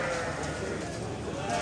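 Sheep brought from Kazakhstan bleat at the Nazarboy livestock market, short wavering calls under nearby voices and general market chatter.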